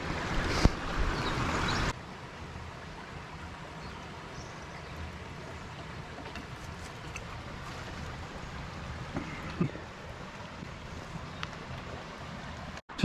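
A river flowing near a seated listener on a walk from Haytor to Houndtor, a steady soft rush of water and faint wind, louder for the first two seconds, then a low constant wash.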